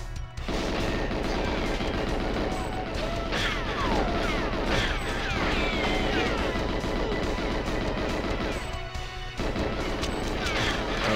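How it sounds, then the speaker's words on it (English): Dense gunfire in the GoldenEye video game, rapid automatic shots and crashing impacts overlapping almost nonstop, loud and close, with brief pauses between bursts. "Someone's shooting at me."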